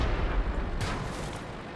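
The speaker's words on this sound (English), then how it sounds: "Got hit by the artillery there." An artillery shell strikes a French Char B1 tank in World of Tanks, a sudden heavy impact burst rising out of steady loud engine and battle rumble, with crackling debris trailing after.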